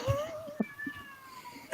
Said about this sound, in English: Somebody give that cat dinner.